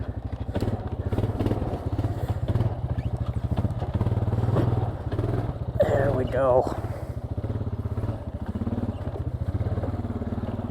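A Honda Foreman 450ES ATV engine idles steadily with a rapid, even low thump, close and loud throughout, its carburetor never cleaned after long storage; someone talks briefly over it.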